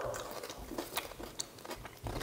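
Someone bites into and chews a crunchy peanut butter crunch snack up close, with irregular crisp crunches and smacking bursts, no talking.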